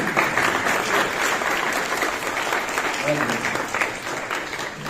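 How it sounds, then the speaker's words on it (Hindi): Audience applause at a poetry recital, a kavi sammelan at IIT Kanpur, with continuous crowd clapping filling the room, steady and even, with faint voices underneath. "वाह वाह, तालियां तालियां हो रहे हैं।"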